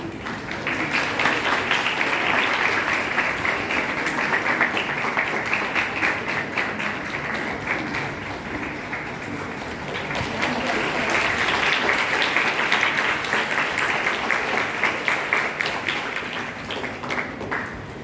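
A large school-event audience applauds at length as the sisters are welcomed, a dense, continuous wash of clapping that swells and eases, with a voice faintly under it.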